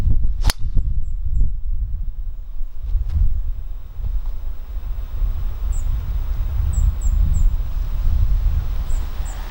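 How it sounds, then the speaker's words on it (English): A golf driver striking a ball off the tee on an island course, one sharp close crack followed by steady wind noise and faint birdsong. "Without a doubt, the best drive of the day for me."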